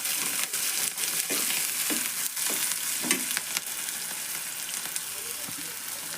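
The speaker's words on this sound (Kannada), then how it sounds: "ಈಗ ಎಣ್ಣೆ ಒಳಗೆ ಫ್ರೈ ಮಾಡೋಣ್ರಿ ಇವನ್ನ" Curry leaves, green chilies and peanuts fry in hot oil with a steady, close sizzle, broken by stirring clatters and scrapes in the pan.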